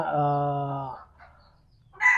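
A rooster crows loudly in a long harmonic call, followed by a brief pause and then a short, sharp squawk from a chicken, among young Bulbi chickens.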